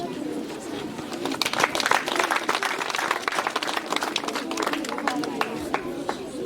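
An audience gives a round of dense, steady applause as a provincial official is introduced at a formal ceremony, with voices and scattered bird calls mixed in.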